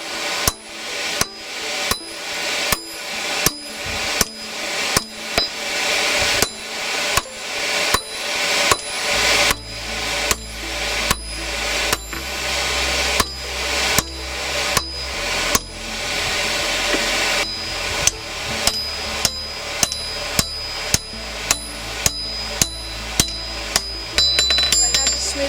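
A hammer steadily pounds a shortsword handle at the forge, smoothing and rounding the metal, with a fast, relentless run of sharp ringing strikes over a constant roaring blower hum.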